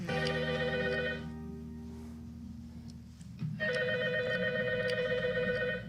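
A telephone rings loudly and close by in an office setting, with two bursts of electronic ringing separated by a short quiet pause and no talking over it.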